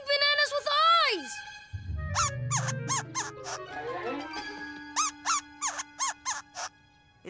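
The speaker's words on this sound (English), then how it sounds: "It's a baby squirrel monkey." A baby squirrel monkey squeaks in a run of high, sharp chirps, some gliding downward and others in quick clustered bursts, with a low rumbling passage in the middle.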